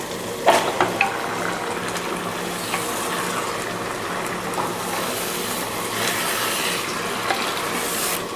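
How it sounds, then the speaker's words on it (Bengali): Two kilos of beef going into a pan of ground spices for beef kosha, with a steady wet sizzle and frying hiss. A few sharp scraping clunks near the start give way to continuous bubbling and stirring noise, with no voices. "এখন মাংসটা দিয়ে দিচ্ছি। এখানে 2 কেজি মাংস আছে।"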